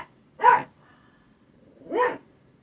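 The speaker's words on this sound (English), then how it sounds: "dog approves." Two single dog barks, well spaced, ring out close by in a quiet indoor room, each a short separate woof with silence around it.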